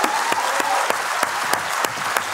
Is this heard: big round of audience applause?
yes